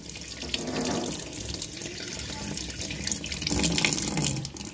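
A kitchen tap runs into a sink, a steady close splashing rush of water that swells slightly toward the end, with no talking over it.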